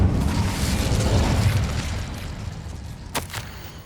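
An Incendio fire spell cast in Hogwarts Legacy bursts with a deep rumbling whoosh that swells and slowly fades, followed by a couple of sharp crackling pops near the end.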